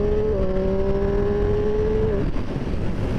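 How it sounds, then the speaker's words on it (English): A Triumph Street Triple RS motorcycle engine drones loudly and close while riding, holding a steady pitch before a quick drop as the quick shifter clicks up a gear. "Up the gearbox as well, through that quick shifter"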